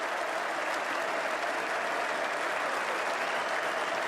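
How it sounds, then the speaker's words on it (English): Steady, broad applause rolls around Lord's as Jimmy Anderson walks out to bat in England's Test against West Indies, an even, distant wash of many hands clapping with no clear voices. "West Indians applauding."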